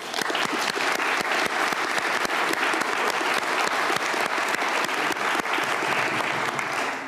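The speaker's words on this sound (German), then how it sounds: "wir machen jetzt mal Applaus, weil Sie das ganz toll machen" A German church service congregation gives steady, loud applause, a thick wash of many hands with sharper individual claps poking through at a fairly regular pulse, lasting unbroken for several seconds.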